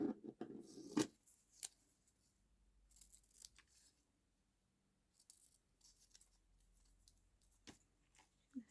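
Scissors snip through paper in a few short, quiet cuts separated by near-silent pauses, close up with no voices.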